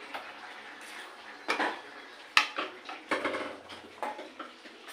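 A metal cooking pot holding eggplant, potato and fish curry is handled while the curry is poured out, giving a few sharp knocks and clinks with soft spattering between them, nearby and fairly quiet.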